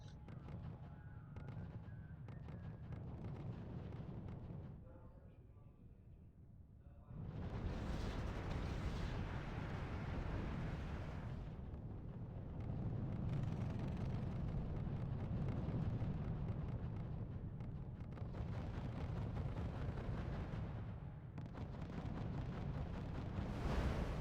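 Artillery fire and explosions in the strategy game RUSE make heavy, rumbling booms layered into a continuous low roar, dense and loud in long waves with a quieter stretch early on.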